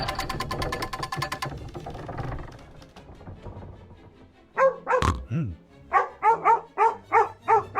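Dog barks in a SpongeBob video game quest, a run of short, evenly spaced yaps in the second half, loud and close, following a stretch of game music and effects with no talking.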